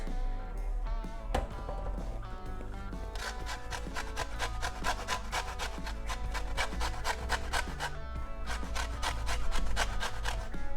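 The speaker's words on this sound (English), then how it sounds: "Now a bit of lemon zest" Lemon zest is grated over a pasta pesto dish in a kitchen, a rapid, rhythmic series of close, dry rasping strokes that continues steadily without speech.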